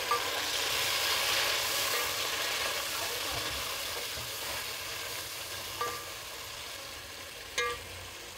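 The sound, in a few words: onions and tomatoes frying in a pan for fish biryani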